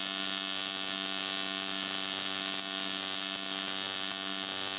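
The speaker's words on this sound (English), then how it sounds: "This is a lap weld in 2mm aluminium using the basic easy weld settings." AC TIG welding arc on a 2mm aluminium lap weld gives a steady, buzzing hum with a bright hiss on top, unbroken and close throughout, with no voices.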